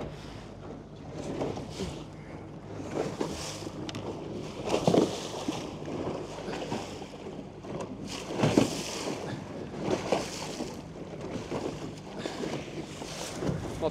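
A Quintrex 440 Renegade boat pushes into choppy water, with a low engine drone under irregular thumps of hull slap and gusts of wind noise across the microphone.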